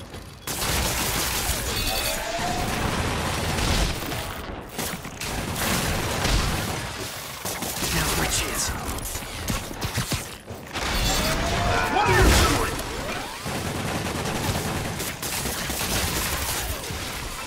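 Turret gunfire in a Spider-Man video game: sustained loud bursts of rapid shots with mechanical clanks and booms, nearly continuous over the whole stretch with brief gaps, mixed with game sound effects.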